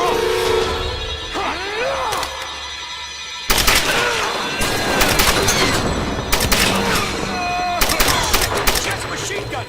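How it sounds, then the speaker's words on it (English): Rapid machine gun fire bursts from the 2013 Tomb Raider game, with loud crackling volleys, sharp impacts and debris crashes stacking into a chaotic fusillade, while voices shout briefly in between. "Just machine gun!"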